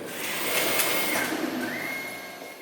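A sewing machine stitches elastic straps onto fabric face masks in a school workshop, giving a steady, close mechanical whir with a whining tone that shifts pitch partway through, running continuously without speech.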